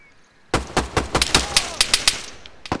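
Gunfire in Operation Black Jacket: about a dozen sharp, loud shots in an irregular burst, close by, after a quiet start, with one more pair of shots at the end.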